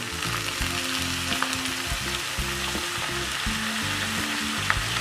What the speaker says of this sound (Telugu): ఇగో ఇప్పుడు మన కాకరకాయలు దీంట్లో వేద్దాం.